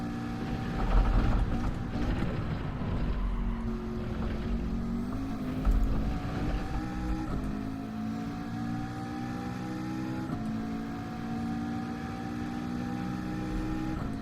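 Engine of a Nissan GT-R in a racing video game, a steady loud drone rising and shifting in pitch through gear changes, with mechanical whine and a few bumps along the way.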